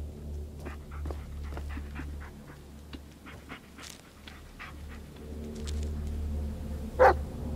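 Bullet the dog in the Blair Witch video game pants rapidly and lets out small yips, ending with a single loud bark, all close over a low droning ambience.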